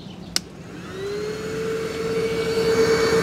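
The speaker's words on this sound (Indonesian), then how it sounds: "dia punya sebuah kipas di depan dan kipasnya ini menciptakan suara seperti sebuah mesin jet" The fan of a Rion RE90 electric scooter whirs up into a rising jet-like whine after a short click, growing steadily louder and higher, with no talking.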